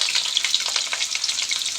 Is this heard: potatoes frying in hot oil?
yes